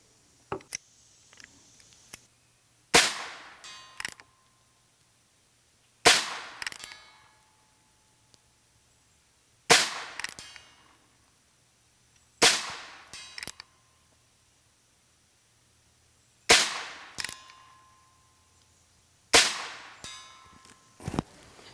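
A Heritage Rough Rider revolver fires six shots at a 100-yard target outdoors, each a sharp crack followed by a short ringing tail, spaced a few seconds apart with quiet between.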